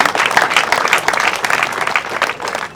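A church congregation applauding together, a dense, loud burst of many hands clapping close by for a few seconds, steady and unbroken.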